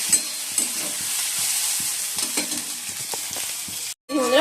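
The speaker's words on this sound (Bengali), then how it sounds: "পেঁয়াজটা ভাজা করছি মানে ভেজে নিচ্ছি" Onions sizzle steadily in a hot pan, a continuous frying hiss with occasional stirring scrapes, close and fairly loud, broken by a brief silence near the end.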